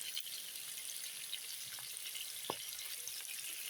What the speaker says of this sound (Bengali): মাছ ভেজে নিব।